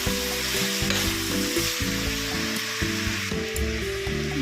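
Chopped snake gourd (padavala) fries in a hot pan with a steady, bright sizzle that runs unbroken from start to finish. A melodic tune plays softly underneath.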